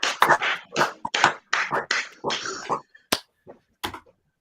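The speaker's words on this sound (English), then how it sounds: "A clap for the fans" A small hand clap for fans: a couple of sharp, isolated claps near the end, following a stretch of talking.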